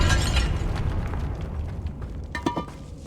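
A Confringo spell explodes in Hogwarts Legacy, a loud booming blast that rumbles and fades over a few seconds, followed by smaller crackling pops and debris bursts near the end.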